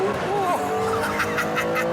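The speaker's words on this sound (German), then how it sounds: "Der 12-Zylinder dreht so schnell bis 8000 Touren hoch" A Maserati MC12 Corsa's V12 engine screams as it revs toward 8000 rpm, pitch rising and dropping through quick gear changes, loud and close, with someone talking over it.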